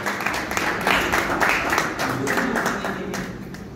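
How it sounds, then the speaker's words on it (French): Audience applause at an awards evening where merit diplomas are presented, steady clapping from a hall crowd throughout with murmured voices mixed in. "Est-ce qu'on peut applaudir pour monsieur Boubou"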